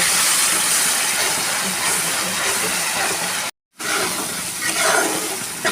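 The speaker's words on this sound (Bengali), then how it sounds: "মশলার মধ্যেই বাটনা ধোয়া জলটা দিয়ে দেব দিয়ে ভালো করে কষিয়ে নেব" A loud, steady sizzling hiss of ground spice paste frying in hot oil, briefly cut off by a moment of silence before it resumes.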